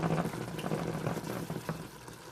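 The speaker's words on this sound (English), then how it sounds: "see how that water is almost boiled out of that rice?" Rice simmers in a pot as its water boils down, making a steady close bubbling and gurgling that softens toward the end, with no voices.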